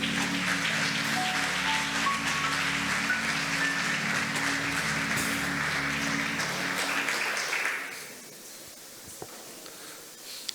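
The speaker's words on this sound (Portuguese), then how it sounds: "aplauda o Senhor" A church congregation applauds at a men's national congress, dense sustained clapping with sustained organ or keyboard tones underneath for several seconds, then the applause fades to quiet room sound with a few stray claps.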